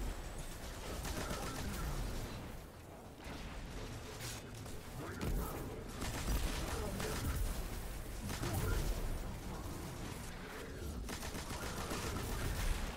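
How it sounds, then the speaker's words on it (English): Constant explosions and rapid gunfire from a void Titan build in a first-person shooter game, with dense continuous bursts and rumbling blasts filling the full stretch alongside a busy layer of mechanical noise. "Constant explosions."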